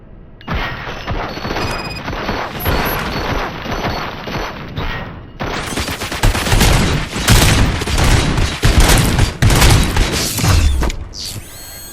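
A video game gunfire volley in RoboCop: Rogue City, with rapid, loud bursts of shots and mechanical clatter that grow denser and heavier in the second half.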